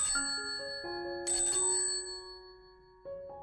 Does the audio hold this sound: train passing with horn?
no